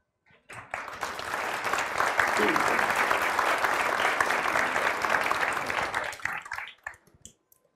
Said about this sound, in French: il faut vraiment les applaudir pour leur performance